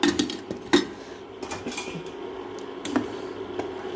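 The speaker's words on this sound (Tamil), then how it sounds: "கட்டி விடாமல் கிண்டணும்" Ragi flour batter being stirred in a pot, with light, clicking scrapes and taps of a utensil against the metal, some sharper knocks and quiet gaps between them.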